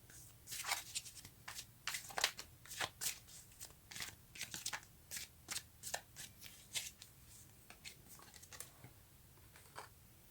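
Tarot cards shuffled and handled up close, a quick run of crisp riffling and flicking bursts in an uneven rhythm, fairly quiet.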